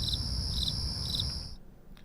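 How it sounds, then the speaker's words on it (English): Steady cricket chirping rings out in bright pulsed trills over low background rumble, then cuts off abruptly near the end, leaving near silence. "Yeah, that gets crickets too."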